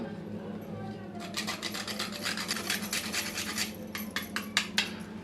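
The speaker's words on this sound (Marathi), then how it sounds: "आता थोडंसं आपण जायफळ सुद्धा किसून घेऊया।" Whole nutmeg is grated for raw mango panha in a home kitchen, a soft rhythmic rasping of repeated quick strokes against a steady low background hum. The strokes grow sharper near the end.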